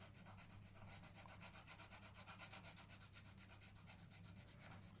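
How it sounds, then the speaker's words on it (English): A pencil shades steadily across paper in a quiet room, a soft continuous rhythmic rubbing and scratching heard up close with no voices. "shade it in with the pencil,"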